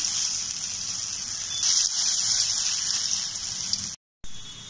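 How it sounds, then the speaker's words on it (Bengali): Flattened lentil fritters frying in hot oil for a radish-greens dish, a steady close hiss and crackle that swells slightly midway, then breaks off in a brief gap before resuming. "তেল গরম হয়ে গিয়েছে, এবার বড়াগুলো ভেজে নিচ্ছি চ্যাপটা চ্যাপটা করে"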